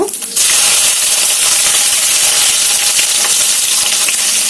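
Green chillies and cumin seeds hit hot oil in a pan and burst into a loud, steady sizzle that holds as an even bright hiss, opening with a brief clatter as they go in.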